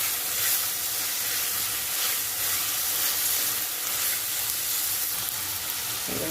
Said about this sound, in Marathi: बारीक केलेला टमाटर हा आहे तो घालून घ्यायचा छान असं परतून घ्यायचं